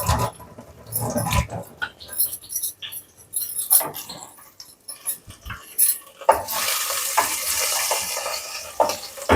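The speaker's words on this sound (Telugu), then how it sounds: "ఉల్లిపాయలు వేగిపోయినాయండి" Onions frying in a pan while being stirred, with continuous sizzling and repeated scraping of a utensil against the metal that turns louder and broader in the last few seconds, no talk.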